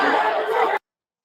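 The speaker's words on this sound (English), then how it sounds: "Do you hear the crowd? There's a bunch of people yelling, yeah, choke him out." A large arena crowd at a CM Punk wrestling event yells and cheers in a dense, loud roar of many voices, heard from within the stands, cutting off abruptly after under a second.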